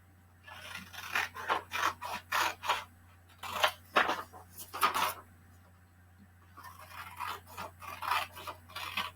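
Scissors cut paper for a classroom interactive reading notebook, a close series of crisp snipping strokes in quick bursts, then a pause and another run of cuts.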